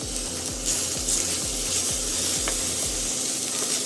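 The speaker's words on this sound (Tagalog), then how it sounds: "Haluin gamit ang sandok." Ampalaya (bitter melon) and egg stirred with a ladle in a sizzling pan, a steady frying hiss under a run of regular scraping strokes, roughly one every half second, close and moderately loud.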